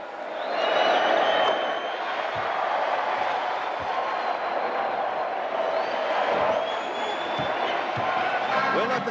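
Basketball arena crowd during a Pistons vs Bulls Eastern Finals Game 6, a sustained roar of cheering that swells and holds, loud and enveloping, with a few thuds scattered through it.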